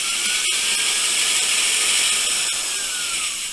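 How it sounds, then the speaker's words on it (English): A hand drill bores into a pine log, giving a continuous, close mechanical grinding with faint ratchet-like clicks and no speech. "let's see if I can drill that."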